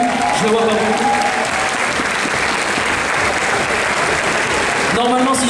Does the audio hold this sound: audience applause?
yes